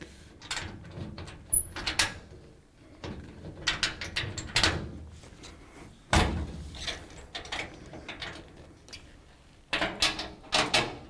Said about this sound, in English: now I'm going to screw the door shut